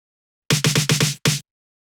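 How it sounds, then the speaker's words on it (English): A drum fill in a future disco track: six punchy, evenly spaced hits in quick succession with a brief gap before the last, loud and dry, standing alone. "Now, let's check this drum fill."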